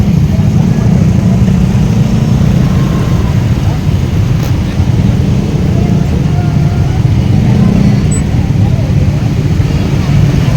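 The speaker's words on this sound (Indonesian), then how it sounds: "Macet ya, karena memang hilir mudik masyarakat yang membeli jajanan ini banyak sekali di sore hari ini" A busy street in a traffic jam near a food market in Dago gives a loud, steady low rumble of idling cars and motorbikes throughout, while someone talks over it.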